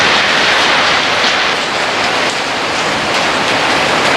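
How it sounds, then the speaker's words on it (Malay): Heavy rain pours down loudly and steadily, a dense unbroken roar close by that never lets up, with no voices over it. "hujan lebat."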